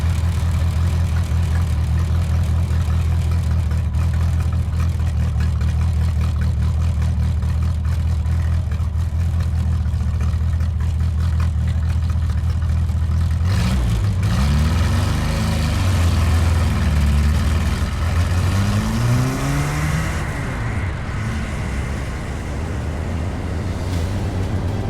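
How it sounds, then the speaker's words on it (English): An old four-cylinder engine in a Bonneville salt-flat racing roadster rumbles loudly and steadily, then revs and climbs in pitch as the car pulls away and accelerates. "Brian fires up the old four-cylinder"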